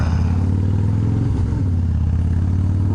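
A motorcycle engine idles steadily up close, a loud, even low rumble with a fast pulsing beat that holds for the whole stretch with no talking.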